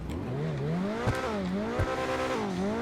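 The Coquette D5 sports car in GTA Online revs up and down repeatedly in a loud, throaty V8-like growl, pitch rising and falling in waves with a couple of sharp pops.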